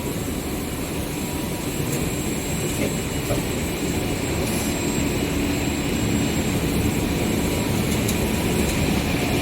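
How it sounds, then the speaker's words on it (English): Traction machine running on an automobile air conditioning and high-pressure braided hose production line, a loud steady industrial drone and rumble with faint intermittent clicks, continuous throughout. "This is the traction machine."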